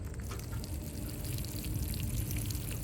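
Water pours onto dirt to make mud, recorded up close for game sound design as a steady, soft splashing trickle with wet, gritty detail throughout.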